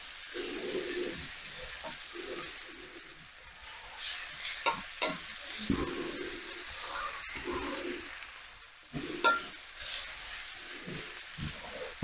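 Green onion cooks in a pan on a stove for colcannon: a soft continuous sizzle with repeated scraping and stirring strokes and occasional clacks of the utensil, close and moderately loud, with no talking.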